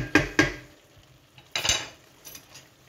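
Lentils being stirred in a pot with a utensil, giving two close scraping knocks, then a longer stir a second later and a faint clink near the end.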